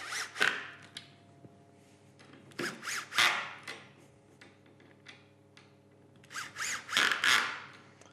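A cordless screwdriver whirs in several short bursts, driving screws into wood, with quiet pauses and light clicks between runs.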